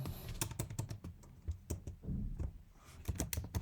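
Typing on a computer keyboard during a programming session, close rapid irregular key clicks in bursts, with no talk.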